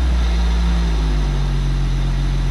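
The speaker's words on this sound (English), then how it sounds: "Now it's idling" A heavy truck engine idles steadily just after start-up with a deep, low rumble, constant and close, with no other sounds.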